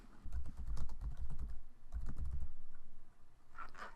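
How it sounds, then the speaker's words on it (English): Close keystrokes on a computer keyboard as a search keyword is typed, two quick bursts of clicky taps separated by a short pause, no talking. "let me type in a keyword"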